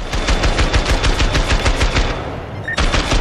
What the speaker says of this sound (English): the weapons, including an assault rifle that can hit enemies behind cover